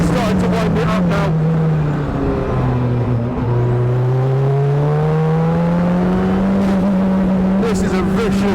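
Turbocharged engine of a Radical track car on the Silverstone circuit, a loud continuous drone that rises and falls as it revs, with fizzing and hissing on top and a voice talking over it.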